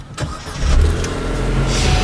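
A 2013 Vauxhall Corsa 1.2 SXi with a 1.2 engine starting: a short starter crank, then the engine catches and settles into a steady, close idle hum.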